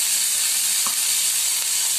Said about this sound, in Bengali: পেঁয়াজ বাটাটা ভাজা হয়ে গেছে